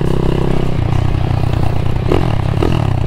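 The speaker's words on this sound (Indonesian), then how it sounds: "Suaranya lebih mirip ke KLX karena aku pakai knalpot standar bobok boy" Motorcycle with a stock standard exhaust revving close by, its steady engine drone rising and falling with throttle blips under some clatter, with a tone resembling a Kawasaki KLX.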